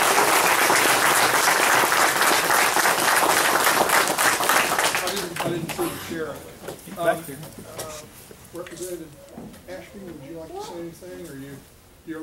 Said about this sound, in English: would you stand up so we can give you a round of applause